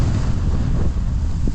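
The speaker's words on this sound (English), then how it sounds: "Welcome back to Snowbird on a very blustery," A strong, blustery wind buffets the microphone on a ski mountain at Snowbird, a close, loud rumbling roar that lasts the whole brief moment without any talking.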